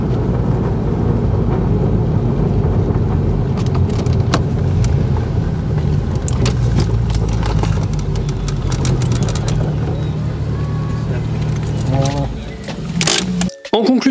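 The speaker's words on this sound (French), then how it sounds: "Le Flat 6 chante bien." Porsche 986 Boxster with a flat-six engine driving, a steady loud engine drone and road roar running throughout, briefly dipping near the end, with people talking over it.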